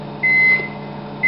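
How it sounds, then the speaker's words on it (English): A microwave oven beeps twice, a clear steady electronic tone held briefly, then a second beep starting after a short pause. "that's my microwave beeping"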